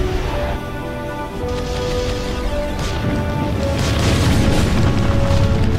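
An enemy aerodyne explodes in the real-time strategy game Ground Control. It makes a loud, sustained booming rumble that swells toward the end over a steady bed of tonal game music.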